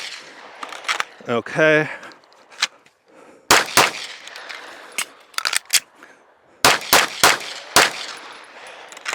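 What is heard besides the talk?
pistol shots from a SIG P320 X5 Legion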